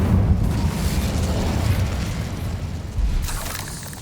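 Incendio fire spell cast in the video game Hogwarts Legacy, a loud roaring fiery burst with deep rumbling body that holds steady for several seconds, then swells again briefly near the end.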